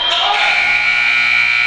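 A loud, sustained electronic buzzer sounds at the end of a quarter in a youth basketball game between the Gallatin Valley Cougars and Omaha Roadrunners, a harsh continuous blare filling the gym.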